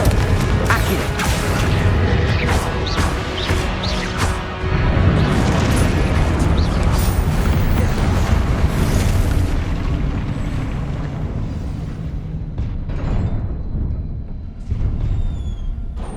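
Repeated heavy booms and blasts from Confringo fire spells in the game Hogwarts Legacy, a dense barrage of explosive bursts and rumbling impacts running continuously and loudly throughout, with mechanical clatter mixed in.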